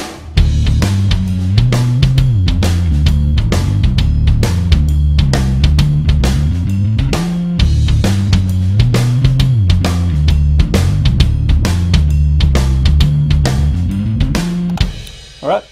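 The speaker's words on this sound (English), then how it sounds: "with the Amplitube on, this is the sound of the bass." Electric bass guitar run through an Amplitube 4 virtual amp, playing a steady, loud riff over a driving drum beat with regular kick and snare hits throughout, ending abruptly.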